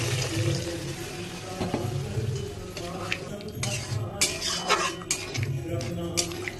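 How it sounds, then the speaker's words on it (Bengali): Water is poured into a pan of cooking rajma with garam masala, a splashing gush followed by metallic clatter of a spoon against the pan, close by and fairly loud. "এবার আমি জল অ্যাড করে দিচ্ছি"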